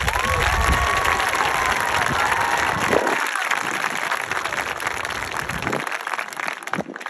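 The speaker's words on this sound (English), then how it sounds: "so can we give him a round of applause?" A crowd at a middle school spring concert at Owen's Grove applauds a recent graduate. The clapping is steady and fairly loud throughout, mixed with some cheering and voices, then thins toward the end.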